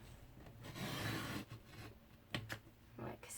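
Cardstock for a Stampin' Up tuxedo fold card is trimmed with a rasping slide and short scraping strokes, soft and close, in several separate bursts.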